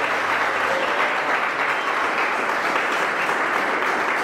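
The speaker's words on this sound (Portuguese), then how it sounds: "Pode bater as palmas bem forte para Jesus." A church congregation claps loudly and continuously in praise, a dense, even wash of many hands with no pauses.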